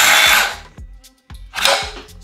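Hilti SCM 22A cold-cutting saw spinning down under its motor brake: loud whirring bursts that cut off quickly, repeated twice, with short clunks in between, close and alone.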